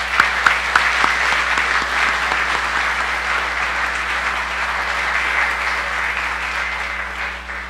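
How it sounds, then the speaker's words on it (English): Sustained applause from the audience at a 2017 Queen's Birthday Honours ceremony for the recipients, steady dense clapping that holds at an even level from start to finish with no voices over it. "Please give them another round of applause."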